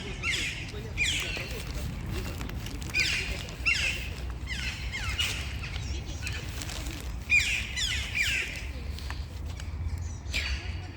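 Crows and rooks call repeatedly outdoors in a Sumy street on a hot summer day, a series of harsh caws spread at intervals over steady background noise.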